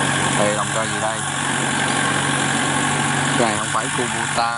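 A river ferry's engine idles in a steady low mechanical drone, close and continuous, while people talk over it now and then.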